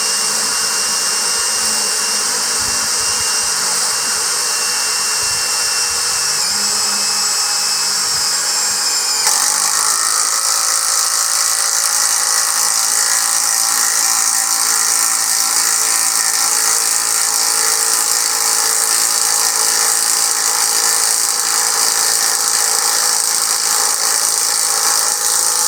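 A Hyper Tough 20V brushless impact driver drives a bolt, its loud continuous whir rising in pitch partway through and holding steady, close and alone.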